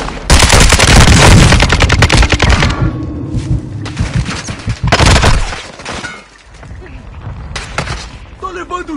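Rapid bursts of automatic gunfire and sharp shots crackle loudly in Call of Duty, with a voice talking over the chaotic battle noise.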